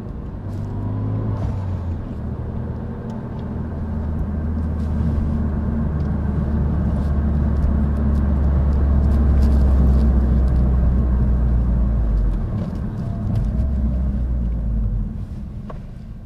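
A Renault Megane 3 RS engine and stainless steel exhaust rumble steadily during normal, slightly spirited driving, the drone swelling and easing as the revs change; no talking.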